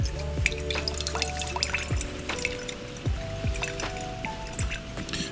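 Water drips and trickles slowly over a sugar cube into a glass of absinthe, with steady close drops plinking at a regular rhythm and a faint continuous dribble, with no talking.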